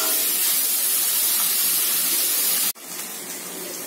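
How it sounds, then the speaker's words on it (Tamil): Onions sauté in a pan for chicken kulambu with a loud, steady, broadband sizzle that drops abruptly near the end and then continues more quietly. "இப்போ வெங்காயம் நல்லா வதங்கிடுச்சு."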